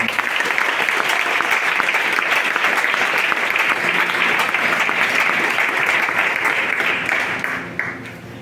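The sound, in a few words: church congregation applauding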